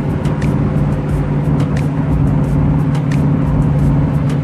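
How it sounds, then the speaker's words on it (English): A Dodge Charger's engine rumbles alongside amid steady, loud road and motor noise that stays constant across a few seconds, with no talking. "This little Dodge Charger keep pulling up on the side of me on the racing shit."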